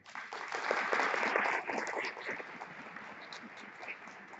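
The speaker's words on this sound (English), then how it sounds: "So we applaud you for that." Audience clapping at a recovery-movement keynote, fairly faint and swelling briefly before thinning out into scattered claps, with some murmuring underneath.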